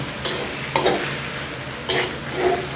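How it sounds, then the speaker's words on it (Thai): Rice with soy sauce stir-fried in a pan, a loud steady sizzle with several spatula scrapes and tosses cutting in at intervals. "ผัดอีกสักนิดนึงนะครับ ให้หอมหอม"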